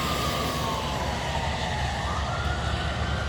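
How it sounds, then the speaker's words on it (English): A fire rescue truck siren wails through traffic, a loud continuous sweeping tone over heavy road and engine noise, with no talk. "There goes fire rescue that people didn't get out of the way of either."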